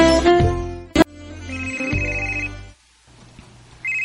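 A phone rings with an incoming call, playing a loud melodic ringtone with bright tonal bursts. It cuts out briefly partway through and then resumes, close and clear.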